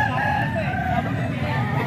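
An eleven-month-old rooster crows loudly and close by, one drawn-out call filling the moment over a busy background.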